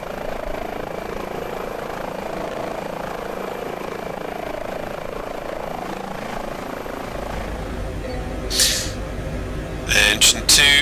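Turbine whine and rotor hum of an H145 helicopter in Microsoft Flight Simulator as its second engine spools up, a steady drone that deepens partway through, with short electronic beeps near the end.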